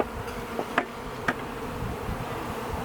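A dense, steady buzz of many honey bees swarming close by as they are shaken into a nucleus hive, with a couple of brief knocks or taps early on.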